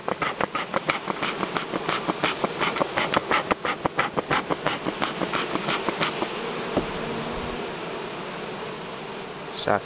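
Buckfast honeybees swarm around an opened hive super during honey harvest, buzzing densely and loudly up close with a rapid pulsing throb, then settle into a steadier drone.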